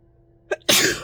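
A single sharp sneeze, a short indrawn breath followed by a loud explosive burst that trails off quickly, close to the listener.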